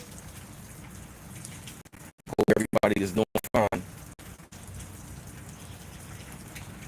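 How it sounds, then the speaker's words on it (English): Rain falls outside as a soft, steady hiss throughout, with someone talking over it in the middle and brief dropouts in the sound. "Today for real, it's raining."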